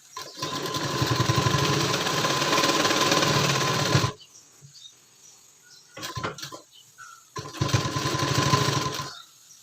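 A sewing machine runs close by as it stitches the lower edge of a blouse: a long steady whirring hum, a pause, a brief burst, then another sustained run.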